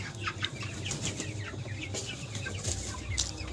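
Chickens on a poultry farm cluck and call repeatedly, a busy overlapping chorus of short clucks at close to moderate distance.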